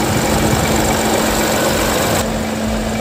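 A Geely Okavango's 3-cylinder engine idles in a steady, loud drone with a fast, even ticking running through it, a constant tone holding throughout before the high end drops away near the end.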